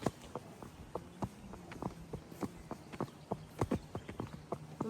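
Horse hooves clip-clopping at a walk on a calm spring trail ride, a steady rhythm of close, sharp strikes with no talk.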